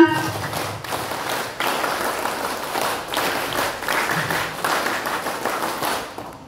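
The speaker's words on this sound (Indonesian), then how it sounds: "Dua kali tepuk pramuka." An Indonesian Pramuka scout group performs the patterned scout clap at an installation ceremony. Many hands strike together in quick rhythmic bursts separated by brief gaps, moderately loud and slightly distant.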